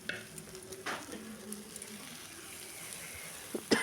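Broccoli hits a pan of cooked-down spice masala with a soft, fairly quiet frying hiss, with a sharper clatter near the start and a few louder knocks at the end.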